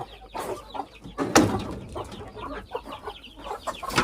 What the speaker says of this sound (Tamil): கின்னி கோழி